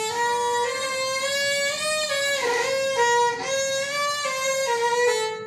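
A beginner's violin plays sustained notes with a rough, scratchy edge and slightly wavering pitch, sounding unsteady and less polished.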